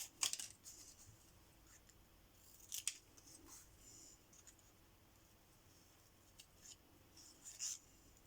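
Scissors snip through watercolour paper in a few quiet, separate cuts with soft rustling between them, close and isolated.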